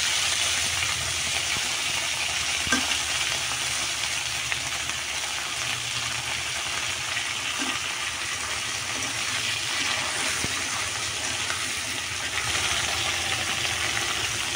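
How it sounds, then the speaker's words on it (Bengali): Fish, potatoes and eggplant frying in a pan, a steady, even sizzle that holds at the same level throughout with a few faint clicks. "সবগুলো তরকারি একটু ভাজা হয়ে দিব।"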